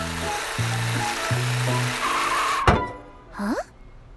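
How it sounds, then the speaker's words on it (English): A cartoon bus approaches nearby with a low, rhythmic engine tone in stepped bursts, followed by a sharp thud and a rising whoosh-like swoop. "I can hear the bus, but I can't see it, Morphle."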